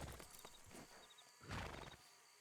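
Horses in the Western game RedM move over the ground with soft, muffled hoof thuds and a snort or whinny, heard as a few dense bursts under background game ambience.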